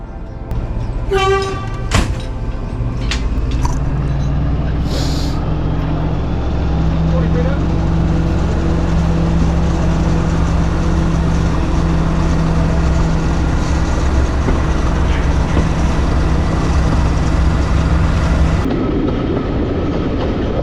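Heritage diesel train running on the West Somerset Railway past country stations, a loud steady engine drone with low rumble and track noise throughout, a brief horn-like tone and clatter early on, ending abruptly.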